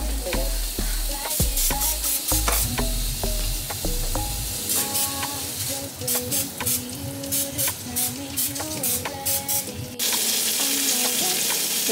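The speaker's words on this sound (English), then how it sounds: "Cooking the sausages right now." Beef sausages fry in a pan with a loud, steady sizzle, while sharp clanks and scraping stir sounds recur throughout.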